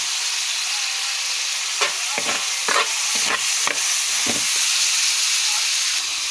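Tomatoes fry in a pan with a constant loud sizzle and hiss, broken by several scraping knocks as they are stirred.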